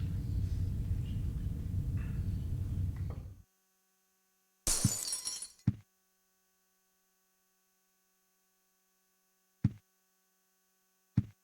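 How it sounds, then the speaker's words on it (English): Glass shatters in the Silent Hill 4 video game: a loud burst of breaking glass follows a low humming room ambience that cuts out, then a few sharp, isolated clinks and thuds ring out in near silence afterward. "Heard glass breaking."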